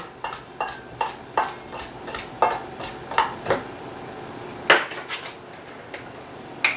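Salt is stirred into cornbread batter, a spoon clinking and scraping against the bowl in quick, uneven strokes, close and clear with no talking.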